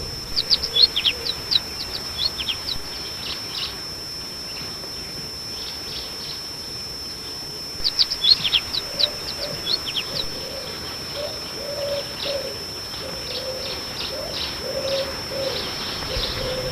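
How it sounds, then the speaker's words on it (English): Birds chirp and tweet in scattered bursts over a steady outdoor background around Kulik, with a dove cooing softly and repeatedly in the second half. "houses other smaller migratory birds as well,"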